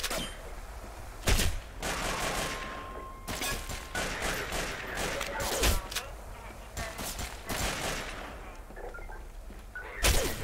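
Rapid bursts of gunfire crackle through a firefight in the Half-Life 2 mod Logistique, with loud sharp shots and volleys recurring throughout, some close and punchy, others layered as a continuous fusillade.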